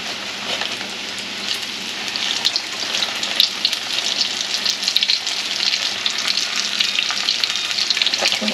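Squirrel pieces, back legs included, fry in hot grease with a steady, dense sizzle and crackle throughout, loud and close with no talking.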